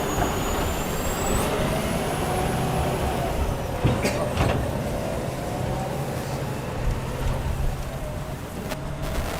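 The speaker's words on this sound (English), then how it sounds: "Wait for the truck to pass." A truck rolls past on a street in Cleveland, a heavy, continuous engine rumble with a few brief clanks and hisses, loud nearby before easing off toward the end.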